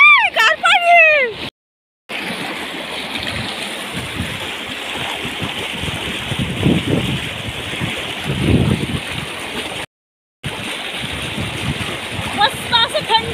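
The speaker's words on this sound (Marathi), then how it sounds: "मस्त असं थंड थंड बर्फासारखं पाणी आहे." Ice-cold stream water flowing steadily over large rocks in the outdoors, a continuous rushing wash with occasional splashes, while people talk nearby.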